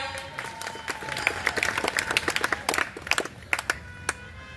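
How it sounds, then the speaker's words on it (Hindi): A crowd at a stage event of the All India Binjhal Mahasabha gathering in Paikmal bursts into loud applause for a guest invited to the stage. The claps are sharp and scattered, growing steadily dense, then thinning toward the end. "सार को पाई गोटे जोरदार करताली हे जाऊ"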